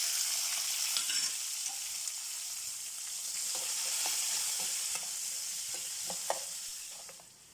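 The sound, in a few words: mustard and cumin seeds spluttering in hot oil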